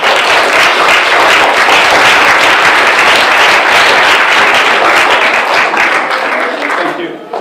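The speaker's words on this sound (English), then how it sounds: "give them a round of applause" Audience applause at an international conference on Tamil computing and information technology, a dense, loud, sustained burst of clapping from a large crowd that fades slightly toward the end.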